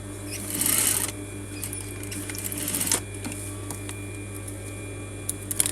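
A sewing machine stitches a coat collar toward the shoulder seam in short whirring runs, with the louder burst near the start and quieter stretches of handling and a steady low hum between.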